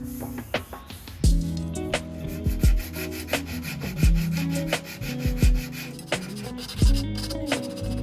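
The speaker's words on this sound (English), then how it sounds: "when it's time to sand it" Hand-sanding a wooden dresser: repeated rhythmic rubbing strokes with scratchy friction and occasional knocks, close and fairly loud, no talking.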